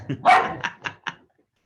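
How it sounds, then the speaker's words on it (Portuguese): Indoor pet dog barking close by: one longer bark followed by three shorter, evenly spaced yips over about a second, then quiet. "Espera que minha cachorra vai latir aqui."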